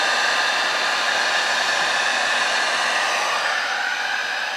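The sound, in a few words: heat gun blowing hot air on an alcohol ink mug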